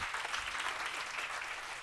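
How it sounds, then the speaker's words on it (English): An audience at a luxury real estate business event applauds, a short burst of steady, dense clapping heard at moderate volume throughout. "Let's give them a round of applause."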